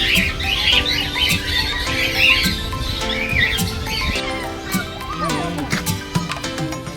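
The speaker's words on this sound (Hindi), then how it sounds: "थोड़े पास में एक और कोकाटिल का बड़ा सा पिंजरा था।" Cockatiels in a large zoo aviary cage at Kankaria Zoo, Ahmedabad, squawk and chatter continuously, with shrill overlapping calls close by and other birds chirping throughout.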